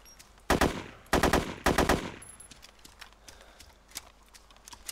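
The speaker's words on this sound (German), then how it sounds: "Ja, dann baller die da mal ein bisschen herum." Three loud bursts of rapid gunfire in the video game DayZ, each lasting about half a second, close together, followed by fainter scattered shots and background noise.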